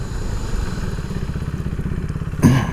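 A KTM RC390 motorcycle is braked hard from 80, heard up close as a rapid, throbbing engine pulse that ends in a sudden thump near the end.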